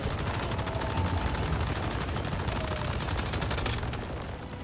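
Sustained rapid automatic gunfire from a gunner build fighting the Forsaken Giant boss in the Once Human video game, a dense continuous loud burst with no pause and no talk.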